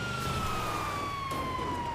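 A wailing ambulance siren in a GTA roleplay session, one long gliding tone that slowly falls in pitch over steady engine and road rumble, loud and continuous throughout.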